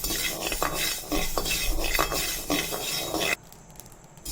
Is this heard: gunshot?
no